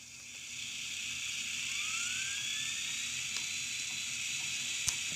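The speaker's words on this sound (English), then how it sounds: "And in a minute, you'll hear the dynamo whine." Dynamo whine from a Bachmann DCC On30 Porter 0-4-2 model locomotive's sound system: a rising electronic whine sweeps upward and settles into a steady high hiss, with a faint click near the end.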